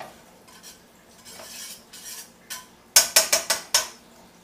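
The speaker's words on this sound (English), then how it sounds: "Stir it around with the spatula." Butter melting in a hot wok, stirred with a spatula: soft scraping strokes at first, then a quick run of sharp clinking metal taps near the end, close and fairly quiet.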